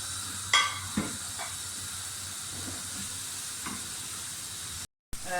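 Tomatoes fry with coriander, green chili and julienned ginger in a pan, giving a soft continuous sizzle broken by a few scraping stirs of a spoon, with a brief dropout near the end.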